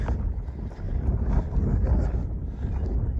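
Steady wind buffets the microphone at an exposed hilltop overlook in Dolly Sods, with low rumbling gusts, continuous and fairly loud, with no voices.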